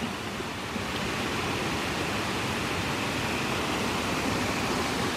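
A tall waterfall in the mountains roars with a dense, constant rush of falling water, loud and close, steady throughout with no pauses and no voices.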